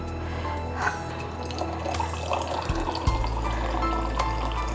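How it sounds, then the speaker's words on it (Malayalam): Soda water poured into grape juice in a glass, a steady close fizzing trickle of liquid with faint bubbling, brief splashy peaks and low background hum throughout. "നമ്മുടെ സോഡ വാട്ടർ ഒഴിക്കുന്നു."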